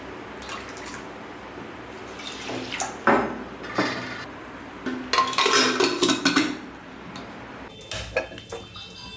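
Dal and water are poured into a pressure cooker, with splashing and trickling water mixed with metallic knocks and clinks of the pot, coming in uneven bursts that peak midway before a few lighter taps.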